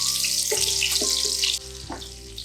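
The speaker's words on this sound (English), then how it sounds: "We'll then saute the onion till it's brown." Onions fry in hot oil with cardamom and whole spices in a pan while a paneer biryani is cooked, giving a loud, steady sizzle with bubbling and crackling that runs throughout and eases a little near the end.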